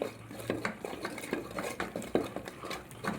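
Cooked okra mixture being mashed with a utensil in a pot, a rapid run of rhythmic metallic taps and scrapes, close and fairly loud with no talk.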